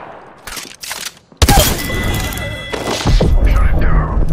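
Caustic's gas trap being set down in Apex Legends, a sudden loud thump and hiss that gives way to a sustained burst of noisy game effects and gunfire, with a voice talking over it.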